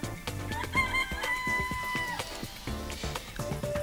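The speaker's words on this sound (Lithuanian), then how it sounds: "Tai gali būti gaidys." A rooster-crow alarm tone plays from a web alarm clock, with repeated bright, electronic-sounding crowing calls that are loud and continuous, with no voices.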